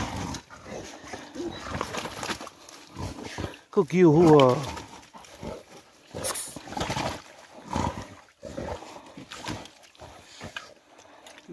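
Hunting dogs with a freshly caught wild pig early in the morning on private land in New Zealand; a burst of squealing and barking-like animal cries rises briefly near the middle, surrounded by steady outdoor talk from the hunters.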